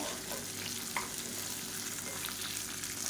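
Onions sautéing in a pan for onion thokku, a steady, soft, even sizzle and crackle with no voices or stirring clatter.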